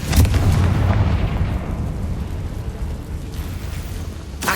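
A Confringo fire spell bursting in Hogwarts Legacy, a heavy booming blast that opens loud and settles into a sustained low rumble over a few seconds.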